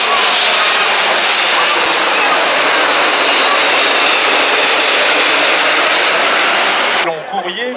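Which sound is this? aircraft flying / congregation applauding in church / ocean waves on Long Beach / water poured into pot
aircraft flying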